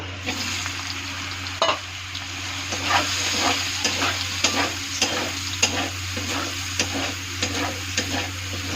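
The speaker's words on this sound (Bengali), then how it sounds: "সোয়াবিনটাও ভালো করে ভেজে নেব।" Soya chunks fry in hot oil in a karahi with a steady, loud crackling sizzle, while repeated spatula scrapes and light knocks mark regular stirring throughout.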